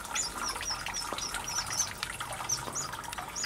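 A Mozambique serin chirps repeatedly in an outdoor aviary in spring, with small, bright, high call notes recurring every half second or so over a steady wash of background noise and water-like hiss.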